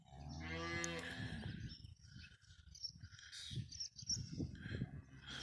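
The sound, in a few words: cattle mooing, cows and calves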